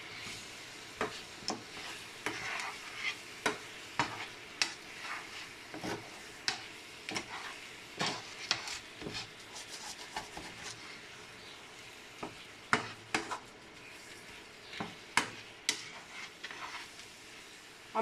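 Pork cooking in caramel in a pan is stirred, giving steady sizzling with irregular scraping clicks of the utensil against the pan, close and moderately quiet with no talk.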